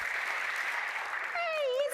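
A children's audience claps briefly in a short burst of applause, and a voice rises over the clapping at the end.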